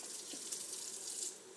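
Water runs steadily into a cooking vessel holding turia shaak (ridge gourd curry) so it can steam, a soft continuous splashing stream heard close and alone.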